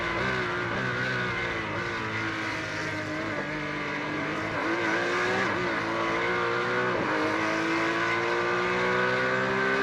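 Porsche race cars howl around the Imola circuit in a racing video game, with a steady loud engine drone whose pitch sweeps up and dips at each gear change and braking point, and no talk.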